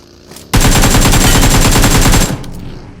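Rapid automatic gunfire in a shooter esports scrim match, one loud sustained burst of closely spaced shots lasting under two seconds, close up, with quieter game ambience before and after.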